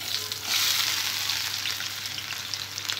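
Onion pieces fry in hot oil in a pan, giving a loud, steady close-up sizzle with a slight surge at the start and no voices.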